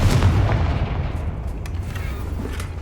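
Confringo blasting spell detonating in Hogwarts Legacy, a loud booming explosion with a rumbling low-end roll that stays dense and sustained for the full few seconds.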